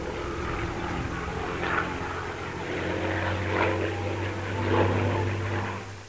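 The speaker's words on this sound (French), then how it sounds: "à bord d'un avion identique à ceux de l'escadron, un Avenger datant de la Seconde Guerre mondiale" A WWII Avenger propeller airplane drones steadily in flight, a constant throbbing engine hum that swells gently and then eases off.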